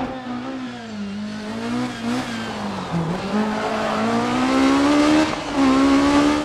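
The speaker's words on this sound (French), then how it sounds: "un son moteur absolument hallucinant" A Peugeot 306 rally car on a German rally stage roars loud and close, its engine note climbing and dipping through gear changes and throttle lifts before revving hard again.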